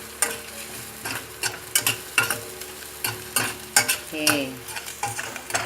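Garlic and onions sautéing in a pan, for sweet and sour fish, sizzle steadily beneath a quick rhythm of stirring clatters from a utensil scraping and tapping the pan; a voice speaks briefly.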